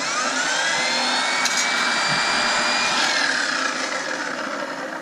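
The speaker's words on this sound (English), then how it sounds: "A little old Ryobi" An old Ryobi compound miter saw runs at a cabin build, its loud, steady high-pitched motor whine holding throughout, with a slight rise and fall as the blade works.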